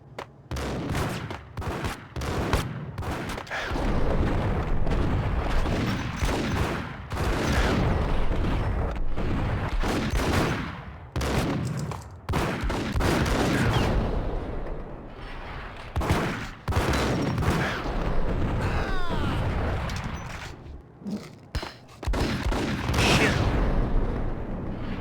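Repeated heavy blasts and gunfire in the Max Payne video game, grenade explosions booming one after another across a sustained, loud firefight with brief quieter gaps.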